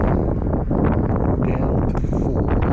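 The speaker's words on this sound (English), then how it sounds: "the gust just came down and pushed the gears down" Strong wind gusts buffeting the camera microphone on an e-bike ride, a loud, steady rumbling roar that fills the whole stretch and never lets up.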